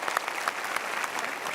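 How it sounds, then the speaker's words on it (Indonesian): An indoor audience claps together in steady, dense applause, close and evenly loud throughout its brief length. "kita berikan tepuk tangan"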